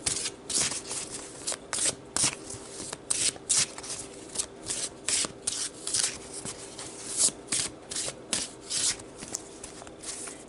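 Oracle cards being shuffled by hand in a tarot-style reading, a steady run of crisp riffling bursts and soft card slaps repeating close up with no voices.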